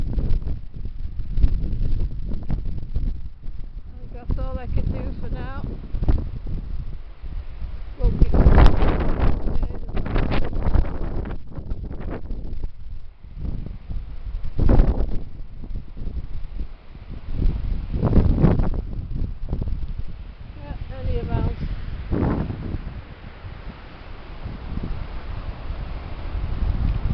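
Strong gusty wind buffets the microphone outdoors on a farm, roaring and rumbling continuously in uneven surges with a few louder bursts, alone without talk.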